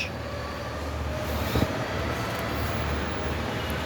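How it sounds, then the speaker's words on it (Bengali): Metro train rumble at Uttara North metro station in Dhaka, a steady low roar of a train running alongside, holding loud and even for a few seconds with a brief clank midway. "আমি আছি উত্তরা উত্তর স্টেশন, মেট্রো স্টেশন।"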